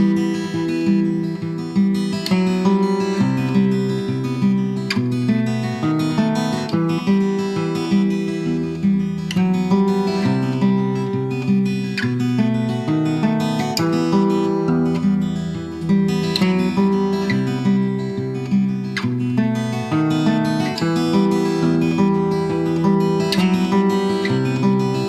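An acoustic guitar picks a flowing riff in a five-note quintuplet pattern, continuous and evenly rhythmic for the whole stretch, close and fairly loud with no talk.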